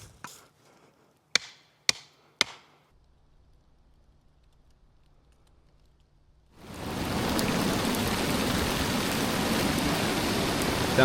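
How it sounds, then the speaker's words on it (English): A few sharp knocks ring out at an off-grid log cabin build site, then quiet, then a heavy downpour suddenly starts and roars steadily and loudly to the end. "Downpour."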